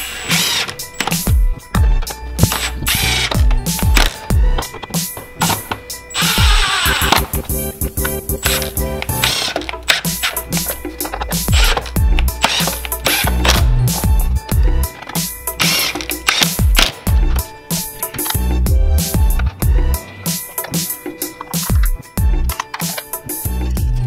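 A ratchet drives screws into plastic trim on a 2019 RAM 1500 during an air filter change, giving quick, close bursts of clicking that repeat throughout amid handling noise, with no talking.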